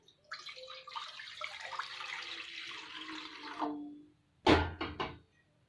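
Water streams into a kadai for about three seconds in a continuous close pour that tapers off, followed by a few sharp metallic clanks of the pan or lid.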